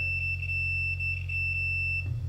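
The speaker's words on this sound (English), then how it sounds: "This should beep if it can pass electricity from one end to the other end." A continuity tester gives a steady electronic beep as its probes touch two joined wires while wiring a homemade digital piano; one high tone holds continuously over a low hum and ends abruptly.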